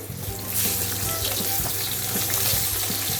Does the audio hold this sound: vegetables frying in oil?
yes